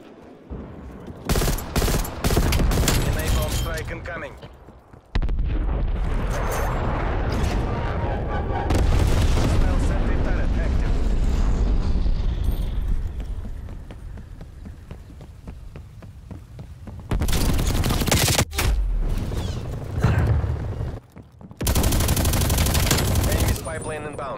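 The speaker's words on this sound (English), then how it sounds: "Enemy bomb strike incoming." Call of Duty Black Ops Cold War game combat: loud bursts of automatic gunfire, booming bomb-strike explosions and long rumbling blasts, close and dense, with brief gaps between volleys and game voice lines mixed in.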